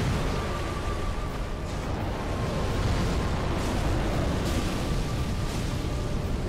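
Booming explosions from the dragon Midir in the Dark Souls 3 video game, a dense continuous roar of blasts and rumble lasting throughout with no clear gaps, loud and steady with no talking.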